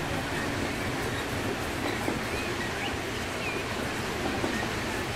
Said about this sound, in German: Nochmal der Railjet hier in einer meiner Lieblingskurven.